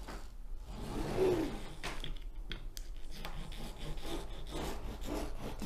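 Diamond painting drills pressed into place with a roller pushed over the whole canvas, giving a steady low rubbing, rasping scrape that continues without a break and has faint clicks, heard close with no talking.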